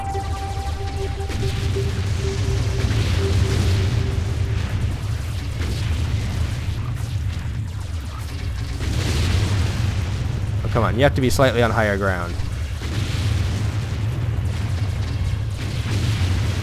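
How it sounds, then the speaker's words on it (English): Deep booming video game explosions rumble continuously in the background while someone talks over them, the low roar swelling and fading. "look at those explosions"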